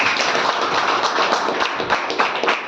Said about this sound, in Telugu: గట్టిగా క్లాప్ కొట్టండి